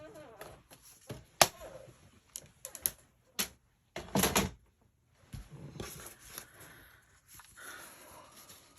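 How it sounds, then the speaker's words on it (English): Scissors cutting two one-inch paper strips for a navy blue scrapbook page: a scattered series of crisp, close snips and clicks with quiet gaps and soft paper rustling in between. "So I'm just going to cut 2 1-inch strips for the top of the navy blue."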